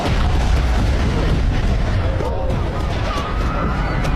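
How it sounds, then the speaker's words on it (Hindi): Heavy rumbling explosions and booms from fighter jets bombing a city roll continuously, loud and dense, like bombs striking nearby amid crashing debris. "विमानों ने अचानक शहर पर बमबारी शुरू कर दी।"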